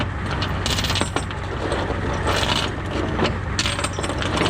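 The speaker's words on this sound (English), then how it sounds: "I got a chain put in here." Metal chain and a snatch block rattling and clinking while being rigged on a wheelless junk car, with clanks and jingling rattles over a steady low engine-like hum, close by.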